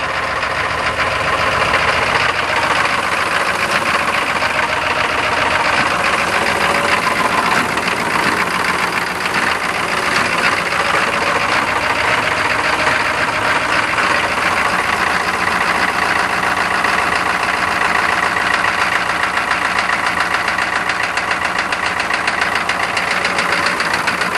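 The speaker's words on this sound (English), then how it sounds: "Wow, what a racket. Running on 7 cylinders. It's got one bad injector or one glow plug." A snow-covered Chevy K5 diesel idles roughly on seven cylinders with one bad injector or glow plug, a loud, close, continuous knocking clatter that never lets up, with no voices.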